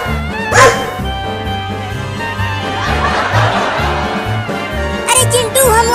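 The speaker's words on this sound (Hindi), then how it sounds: "अरे पीछे वो बड़ा कुत्ता हमें काटने के लिए आ रहा है" A big cartoon dog barks in short deep woofs over background music, with brief giggling and chuckling voices around it.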